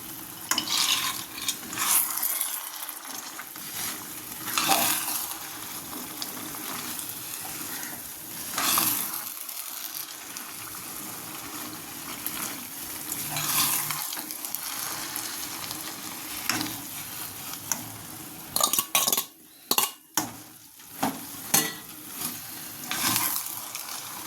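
Cashews frying in a pan while kesari is made give a steady, close sizzle with stirring scrapes, rising and falling, and a few clattering spoon knocks near the end.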